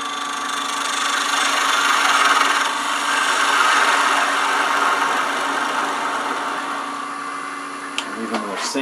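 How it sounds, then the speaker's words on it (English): Sanding a turned burl wood box on a running lathe with 180 grit sandpaper, a steady broadband rubbing hiss over a low motor hum, close and continuous, with a few brief knocks near the end. "Sand that up just a touch before we put the V grooves in there. Start with a little 180."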